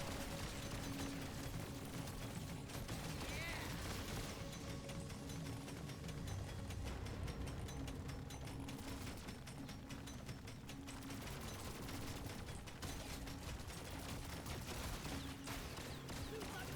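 Rapid carbine gunfire from the mining shooter Deep Rock Galactic: Survivor, a dense continuous fusillade of shots layered with game effects and mechanical noise, steady and loud throughout.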